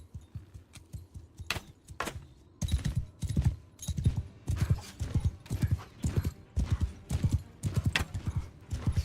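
Horse hooves clip-clop steadily in the medieval battle game Bannerlord, a brisk, evenly spaced run of close, loud footfalls that builds in strength over several seconds with faint jingling tack.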